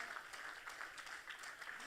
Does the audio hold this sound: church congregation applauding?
yes